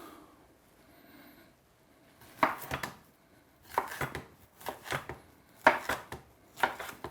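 Knife roughly chopping green pepper on a cutting board, a string of sharp clustered knocks in irregular bursts after a quiet start, close and clear.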